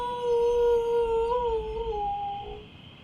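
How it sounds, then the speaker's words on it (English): A lone wolf howls in the distance, a single long, wavering, rising-then-falling howl with clear tonal overtones that tails off, over a faint low background rumble. "The howl of a lone wolf somewhere."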